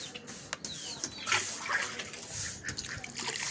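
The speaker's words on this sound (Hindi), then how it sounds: "अभी अंदर हम इसमें साफ पानी डालते हैं" Clean water poured into a bucket for chicks, a soft close splashing and trickling that swells and fades in short bursts over a few seconds, with no talking.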